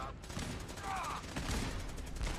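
Rapid bursts of futuristic gunfire from a gauss rifle echo through a Fallout 4 battle, fairly faint and muffled, with a voice speaking over it.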